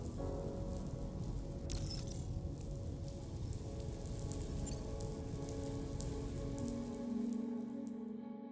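Steady rainfall in the video game Death Stranding 2, a continuous patter of drops on surfaces with a low ambient bed, fairly even throughout before thinning out at the very end.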